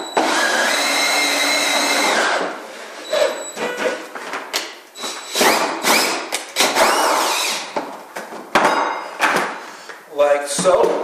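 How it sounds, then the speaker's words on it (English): Power drill cutting a hole in a plastic bucket lid for a homemade honey extractor, a loud whining cut at the start, then choppy grinding and scraping bursts, with talk in the background. "we're going to take the drill and we're going to cut a hole"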